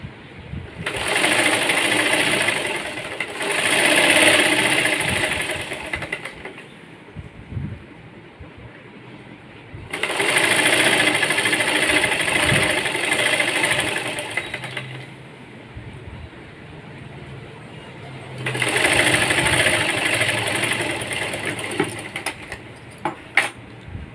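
A sewing machine stitches an umbrella frock in three loud bursts of rapid running, each several seconds long, separated by quieter pauses of handling fabric.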